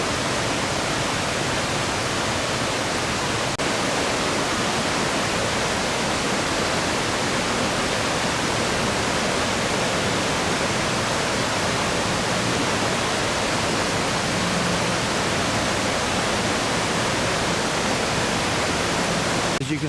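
A river flows steadily at a roadside river site along Newfound Gap Road in the Great Smoky Mountains, a constant full rushing wash that stays even throughout with no voices.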